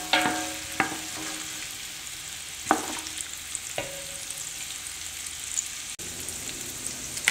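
Onions, carrots and celery sweat in a pan for a velouté, giving a soft, steady sizzle with occasional stirring knocks and scrapes, quiet and close.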